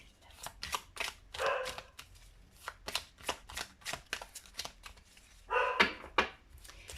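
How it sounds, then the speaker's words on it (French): A female dog barks faintly in the background of an indoor room, a few short muffled barks mixed with rapid dry clattering and tapping. "ma chienne n'arrête pas d'aboyer"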